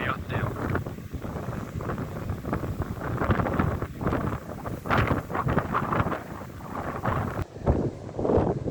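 Wind gusting steadily across an open harbour slip near a seaplane harbour, with a northerly wind and waves; a continuous broadband rush with slight surges, fairly loud and close, with a voice talking over part of it.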